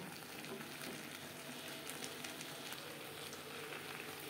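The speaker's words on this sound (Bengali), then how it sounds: "মশলার সাথে আলু আরও 3-4 মিনিট নাড়াচাড়া করে দেব।" Potatoes frying with spices in a pan for Bengali egg curry, stirred as a soft, even sizzle runs steadily throughout, fairly faint and without talk.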